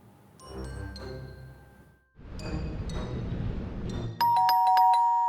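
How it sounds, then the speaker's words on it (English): A doorbell rings several times indoors in a domestic setting, bright chiming tones in separate bursts, ending in a louder multi-tone ding-dong chime, with no talking over it. "Is that the doorbell?"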